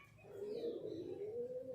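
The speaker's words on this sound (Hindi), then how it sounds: "ये है जी हमारा रत्ता कबूतर जी बड़ा" Large ratta pigeon cooing in a steady, continuous low warble, close and clear with no talk.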